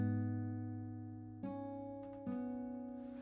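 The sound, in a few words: guitar fingerpicking pattern, bottom two notes then high and middle strings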